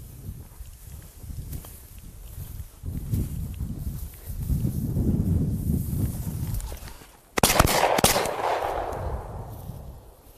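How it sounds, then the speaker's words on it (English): Shotgun blasts while hunting pheasant in the field, a sharp loud report rising abruptly out of footsteps and rustling brush, trailing off afterward. "Wow, that was tough shooting here."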